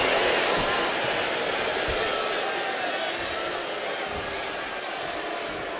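A live crowd at a wrestling match gives off a dense, loud roar that stays steady throughout, like cheering filling an arena, with some speech mixed underneath.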